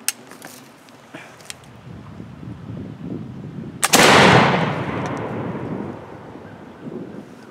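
A single loud blast from a smoothbore gun fired at a broom outdoors, booming and then rolling away in a long fading echo, with faint handling noise and wind before it.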